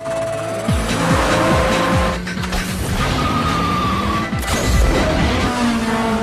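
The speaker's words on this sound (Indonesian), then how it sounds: "Dilanjut dengan pertarungan antara Jesse dan Trent dengan mempertaruhkan mobilnya." A street car race from a Fast and Furious film: loud engines rev and roar through rapid gear shifts, with tires squealing and cars skidding and passing close by, continuous and intense throughout, with no talking.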